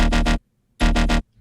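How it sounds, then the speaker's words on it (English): A classic old-school dubstep bass made in the Serum synth sounds as two loud bursts of three rapid wobbling pulses each, separated by a short silence. "this final bass is kind of like a classic dubstep bass sound"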